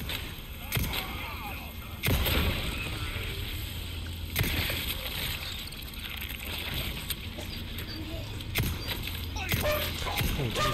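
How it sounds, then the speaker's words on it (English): A household dog barks in short bursts in the background while Resident Evil 4 Remake gameplay plays, mixed with gunfire-like game effects and someone talking. "sorry about my dog barking"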